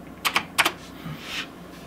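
Two short bursts of computer keyboard typing, a pair of quick keystrokes each, clicking close by in a quiet room, followed by faint shuffling.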